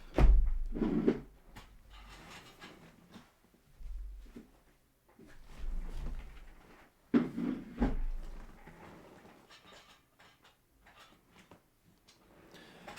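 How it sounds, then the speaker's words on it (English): A garbage can gets knocked over near a microphone, giving a few low thuds and scraping knocks scattered across several seconds, with quieter rustling between them. "I just knocked over my garbage can"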